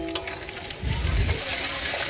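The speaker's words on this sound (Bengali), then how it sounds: "মশলাটাকে ভালো করে ভেজে নেব" A ginger, garlic, chilli and cumin paste fries in a pan with turmeric and chilli powder, hissing in a dense close sizzle that thickens into a louder low rumble partway through, with no voices.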